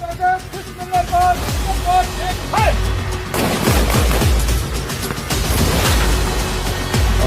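Gunfire at an army training firing range, where soldiers practise on tactical ranges. Sharp reports and booming blasts come in bursts throughout, mixed with heavy background noise and possible voices.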